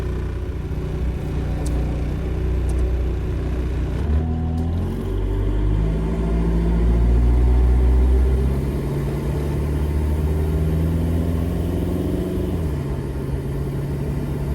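A diesel-powered Jeep TJ Wrangler drives along with a loud, close engine rumble. The pitch rises and falls as it accelerates and shifts, and no one speaks.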